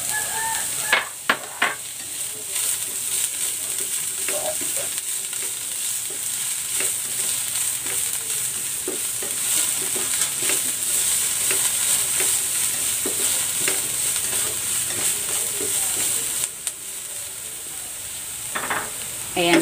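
Onion leeks sizzle and crackle steadily in a hot pan for an onion omelette, with dense frying hiss throughout and occasional sharper clicks of a utensil stirring and scraping against the pan.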